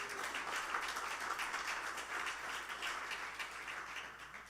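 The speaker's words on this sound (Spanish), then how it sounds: "Dale un aplauso al Señor." A church congregation claps in a sustained, even round of applause, moderately quiet and unbroken from start to finish.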